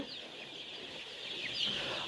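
Chickens on a poultry farm cheep and chirp faintly, with high calls scattered over a soft, constant background hum.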